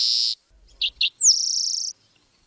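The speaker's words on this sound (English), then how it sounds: "the two noises that I think they make the most are the chup-chup Z and then another kind of a Z-sounding trill" A sparrow near Lake Tahoe gives a few sharp chup-chup notes followed by a buzzy, Z-sounding trill, clear and close against silence.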